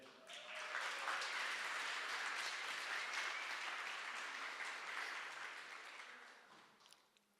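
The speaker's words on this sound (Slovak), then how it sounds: "Tak veľký potlesk režisérovi ešte" Sustained applause from a live audience at the finale of a hackathon event, a dense wash of clapping that swells in quickly, holds steady for several seconds, then tapers off toward the end.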